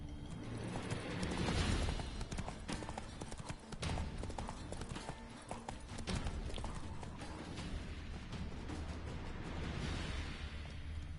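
Roach the horse galloping in The Witcher 3, a steady rapid clip-clop of hooves on the ground, close and continuous with a rushing rhythm throughout.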